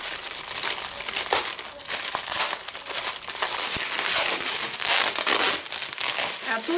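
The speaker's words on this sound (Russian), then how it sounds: "Я пакетик решила вскрыть нормальным путем." Dense, continuous crinkling of thin plastic being handled and pulled open, close up and fairly loud throughout.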